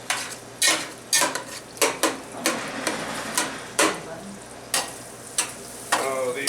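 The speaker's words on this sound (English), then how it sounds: "Stir it up. My sausage looks like it's mostly there," Sausage frying in a pan for Super Bowl queso, with a steady sizzle broken by about a dozen sharp scraping clacks of a utensil stirring against the pan. It sounds close and moderately loud, with no talk.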